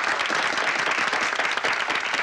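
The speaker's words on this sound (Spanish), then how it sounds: "Un aplauso para el señor." Studio audience applause for the first participant on a Spanish-language TV game show, a dense, steady roar of clapping throughout, loud and continuous with no talk over it.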